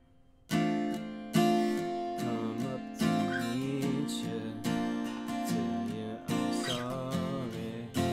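Strummed acoustic guitar playing the chords of a song, a clear close run of chord strikes and ringing notes with changes every second or so.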